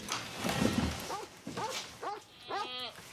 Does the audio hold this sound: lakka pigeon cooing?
no